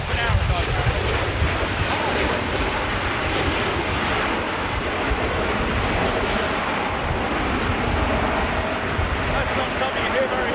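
Boeing 787 Dreamliner engines run at high power, a loud, dense, continuous jet roar with wind buffeting the microphone throughout.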